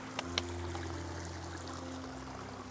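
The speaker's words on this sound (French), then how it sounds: "on a carrément un ruisseau sur le chemin de randonnée" Small mountain stream running across a hiking trail, a faint continuous watery rush with a couple of light ticks near the start, no voices.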